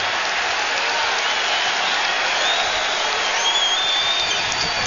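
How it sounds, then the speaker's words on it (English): A basketball arena crowd at a 2008 NBA playoff game between the Cleveland Cavaliers and Washington Wizards reacts to a foul, a dense, steady roar of cheering and noise that fills the space throughout. "Foul committed by Wallace, and the crowd reacting as Butler was sent to the floor"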